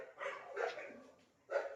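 Several barks from street dogs in a neighbourhood lane come in three separate bursts at moderate distance, with no talking.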